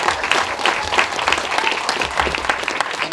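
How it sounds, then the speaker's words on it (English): A class audience breaks into full, dense applause, clapping steadily and fairly loudly throughout with a light crowd murmur underneath. "please give a brother a round of applause"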